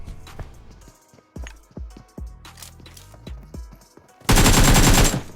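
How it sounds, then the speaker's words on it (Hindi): Gunfire in a PUBG battle royale match: a series of sharp, echoing single shots spaced irregularly, then a loud sustained burst of rapid automatic fire at the end. "अब इस वाले बंदे पे फायर मिस किया"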